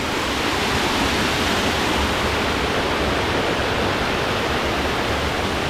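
Rain-swollen waterfall in a green forest near a living root bridge in India, a dense steady roar of rushing water, loud and unbroken throughout.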